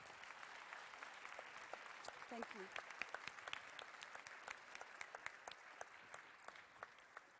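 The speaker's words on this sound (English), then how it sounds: "May I please give a round of applause to my panelists this afternoon." An audience at a conference panel session applauds the panelists with steady, moderately distant clapping lasting several seconds, while a voice speaks briefly over it.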